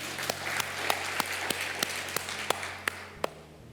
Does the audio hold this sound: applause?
yes